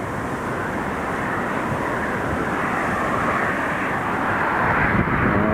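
A Diamond light aircraft does a go-around at an airport, its engine a steady broad drone mixed with wind noise, slowly growing slightly louder.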